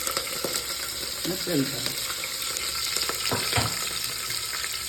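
Cut green chillies being stirred and fried with a ladle in oil for mutton curry, a steady sizzle broken by metallic scrapes, while a voice speaks briefly.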